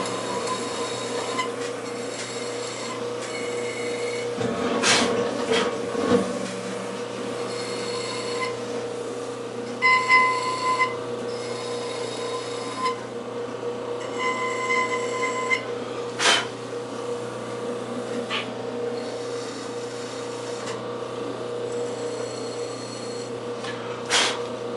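A trimming tool cutting into a clay plate spinning on a pottery wheel, a steady hum under uneven scraping and chattering, with a few sharper knocks along the way.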